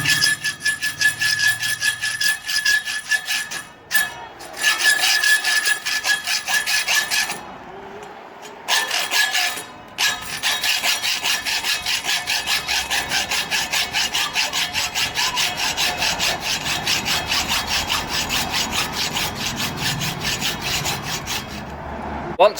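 Hand saw cutting through the end of a clamped metal NO2 gas cartridge, a steady rasping stroke rhythm running close and loud almost throughout, with two brief pauses early on and no talking.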